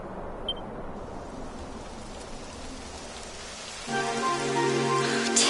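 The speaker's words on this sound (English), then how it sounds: "It would have to go and start raining, wouldn't it?" Rain begins in the Dragon Quest XI video game, a soft wash of falling rain that swells noticeably louder partway through as a game tone joins in.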